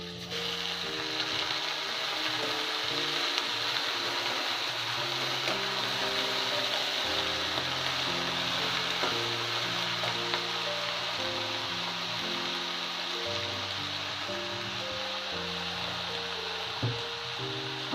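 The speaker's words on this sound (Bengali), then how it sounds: "পুরো ডাটাটাই দিয়ে দেবো। তবে বেশ কিছুক্ষণ নাড়াচাড়া করবো নুন দিয়ে আমরা।" Vegetable stalks fry in a pan with salt while being stirred, giving a steady, even sizzling hiss that runs unbroken throughout, with low tonal sounds underneath.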